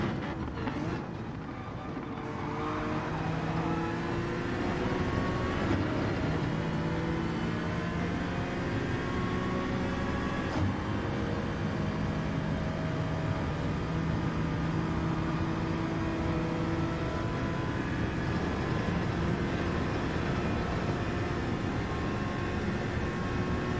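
Racing car engines in Gran Turismo 7 drone and rev continuously, with steady harmonic whines shifting pitch as gears change, loud and close with no voices.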